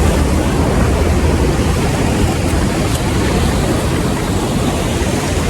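Water stream pouring over rocks at the Kappara Thota viewpoint, a dense, steady broadband rush close to the microphone that holds constant without pauses or voices.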